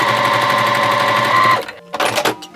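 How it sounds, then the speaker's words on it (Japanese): Sewing machine running a 1 cm seam through fabric, a loud steady mechanical chatter of stitching that stops abruptly partway, followed by a couple of short bursts of the machine. "じゃあまず半分に折って、一番長いところの1センチ縫うよ。"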